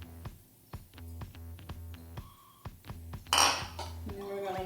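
Shredded sharp cheddar, Monterey Jack and mild cheddar are stirred in a bowl at home, giving a regular clinking and knocking of utensil against dish, steady and close, with one brighter scrape near the end.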